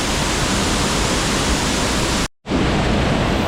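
Rushing water of the Arippara river beside a waterfall roars as a dense, loud, continuous wash, cutting out abruptly for a moment before resuming just as strong.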